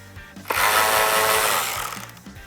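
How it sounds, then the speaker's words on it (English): Power driver spinning a T15 Torx bit to back out a screw on the outer edge of a 2019-2022 RAM 1500 side mirror, a steady close whir lasting about a second and a half after a short click. "taking your T15 Torx bit, remove the screw on the furthest outside of the mirror."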